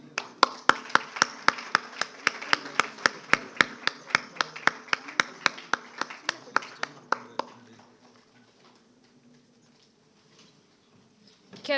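An audience claps in slow unison for NCC cadets at a 76th NCC Day celebration in Mysore, about three sharp claps a second for some seven seconds, then the room falls nearly quiet.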